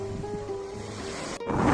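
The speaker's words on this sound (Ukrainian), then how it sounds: "Зараз просто якийсь кошмарний вітер зриває шкіру" Strong wind buffets the microphone at the seaside in Odesa, a continuous roar with surf beneath it that swells near the end, and no one speaking.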